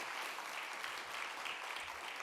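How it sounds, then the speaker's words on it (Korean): A church congregation claps at a Sunday service baptism, a dense, even wash of applause from many hands that holds steady for a couple of seconds at moderate distance. "다시 한번 뜨겁게 우리 박수 축하하겠습니다."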